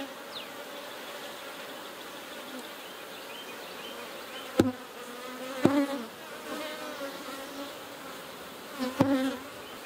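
Honey bees buzz steadily around an opened hive during a beekeeping inspection, a dense swarm hum with a few louder close passes and brief handling knocks.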